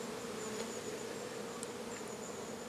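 A steady, dense insect hum of many honeybees buzzing together at a hive, continuous and close, with no voices.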